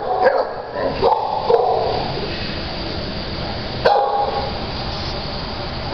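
Thor, a 46-pound dog of a couple of years, barks a few times at an animal shelter. Sharp barks rise above a constant noisy kennel din.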